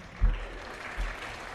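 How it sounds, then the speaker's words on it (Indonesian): An audience claps briefly at a church musical drama staged to raise funds for a church building, a soft, diffuse patter with two small swells. "Cia! Tepuk tangan!"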